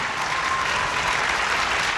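A studio audience at a TV game show applauds steadily and densely throughout, a loud, even wash of clapping with no talk over it.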